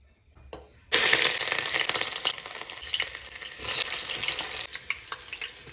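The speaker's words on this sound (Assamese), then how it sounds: "তেলখিনি গৰম হৈ গ'ল, এতিয়া মই পিঁয়াজ দি দিম যিখিনি মই কাটি থৈছিলোঁ।" Chopped onions hitting hot oil in a pan for an Assamese mutton curry, a sudden loud sizzle that settles into steady close frying with occasional stirring clinks.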